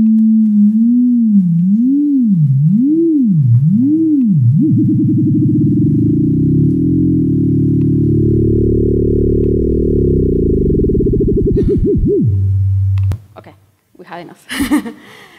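A synthesized tone sweeps up and down between 340 and 540 Hz once a second, then thickens into a sustained buzzy drone that drops lower near the end and cuts off, followed by brief clatter.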